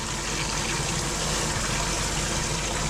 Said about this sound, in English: Now you can see that is a pretty wonderful shower, and again, piping hot water there.